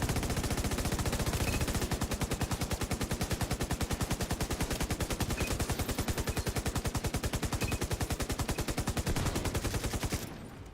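Continuous rapid automatic gunfire from enemies in a shooter video game, a steady loud rattle of evenly spaced shots running nearly ten seconds without pause.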